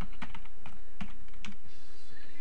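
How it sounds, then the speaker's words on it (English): Keys tapped on a computer keyboard while a password is entered, a quick irregular run of sharp clicks close by with short pauses between bursts, no voices. "Type in the password."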